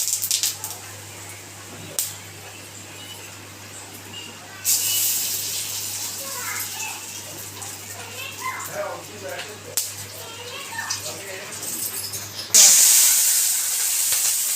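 Black mustard seeds and dried chillies sizzle in hot oil in a pan for a sour dish. A quiet hiss grows into a steady crackling sizzle and ends in a louder burst, with talking heard during the clip.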